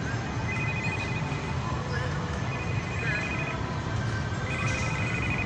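A telephone rings in a room, its electronic tone repeating in regular bursts over a constant background of indistinct chatter and room noise.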